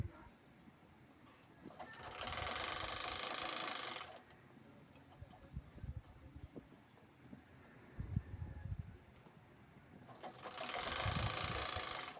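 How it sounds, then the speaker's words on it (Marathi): Sewing machine stitching the squared-off two-by-two-inch corners of a fabric bag made from blouse-piece cloth, in two loud steady runs at the start and end with quieter handling noise between. "आता हे कोपरे शिवून घ्यायचे आहेत"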